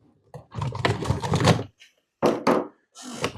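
XM5 rifle magazines are pushed into the pouches of a magnetic plate carrier, making a few close knocks and thunks in short bursts, with pauses of near silence between them.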